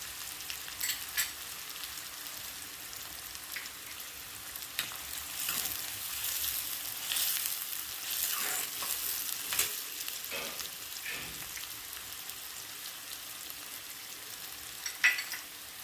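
Chili added to a pan and frying while spicy Vidarbha-style eggplant bharit is cooked, a quiet, steady sizzle with scattered crackles and occasional utensil scrapes, no talking.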